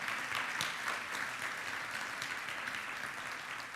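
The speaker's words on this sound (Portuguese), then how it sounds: "Dá um glória a Deus, um aplauso bem forte a Ele" A church congregation at a Holy Communion service claps in sustained, even applause throughout.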